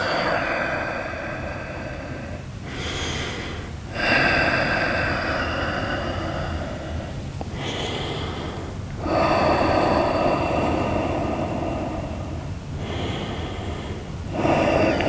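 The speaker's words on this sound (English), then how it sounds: "Three more breaths." Deep, steady breathing during a yoga session, each slow inhale and exhale in long alternating swells, close and fairly loud with no talking.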